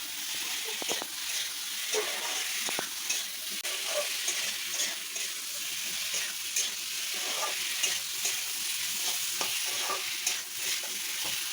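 Spices cook down in a pan on the stove with a dense, steady sizzle and hiss, broken by frequent light scrapes and taps of stirring, close and continuous throughout.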